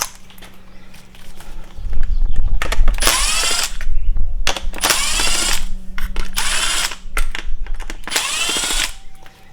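Power screwdriver bursts removing four T20 Torx screws from the steering wheel trim of a BMW M340i, several whirring runs with ratcheting clicks between them, close and fairly loud, no talking.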